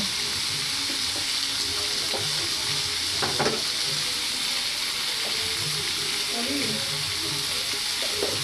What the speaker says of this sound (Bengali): ভেজে নিতে হবে, সবগুলো ভেজে নিতে হবে